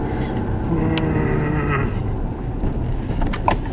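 Interior rumble of a car driving slowly into a car park during a driving test manoeuvre, a steady low engine and road noise with a few faint clicks and knocks.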